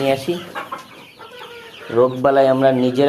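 Poultry farm chickens clucking close by, a series of throaty, repeated clucks that swell louder toward the end, with no clear speech over them.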